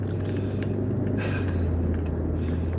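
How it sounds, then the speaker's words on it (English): Steady low engine and road rumble inside a moving car on the way to work, continuous and unbroken with no talk. "I am driving to work"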